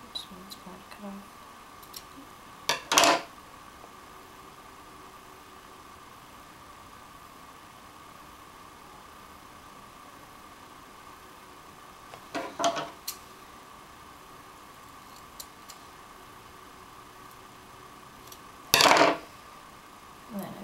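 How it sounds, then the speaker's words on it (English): Scissors snip away excess material from handmade scales for an Anivia costume: three brief, isolated cuts spaced several seconds apart, close and crisp over a faint steady background hum. "Cutting off a lot of the excess."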